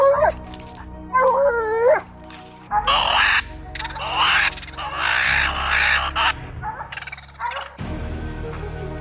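Coon hunting dog barking, whining and panting in hot, humid weather, several close yelps and bays in a busy, uneven sequence.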